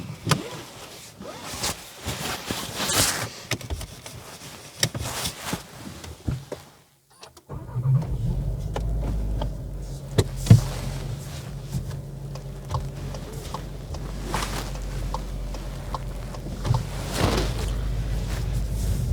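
A Skoda Fabia small car engine runs while driving, first a quiet cabin with scattered clicks and knocks, then after a brief gap a steady low engine drone with occasional bumps, with no talk over it.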